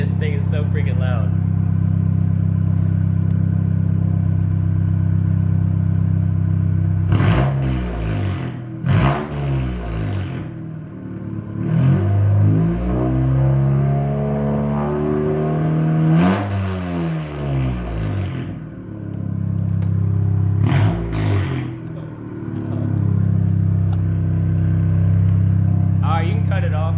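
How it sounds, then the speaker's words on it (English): A 10th-generation Honda Civic Si with a catless downpipe and front pipe idles loudly up close, then is revved in several sharp, rising blips and longer pulls before settling back to a throaty idle. "I'm gonna let Lee rev it up so I can see what it sounds like out here"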